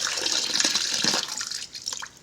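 Dirty water poured out from soaked items as a sample: a steady, close splashing stream for about a second and a half, then a few trailing drips, with no talking.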